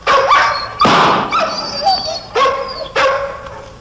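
A dog barks loudly and close by in several sharp bursts, some of them whining yips, with short pauses in between.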